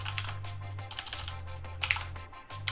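Google search words typed on a computer keyboard, heard as quick, close, irregular clicky keystrokes over about three seconds, with a steady low hum in the background.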